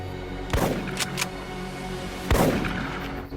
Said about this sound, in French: il a entendu deux autres coups de feu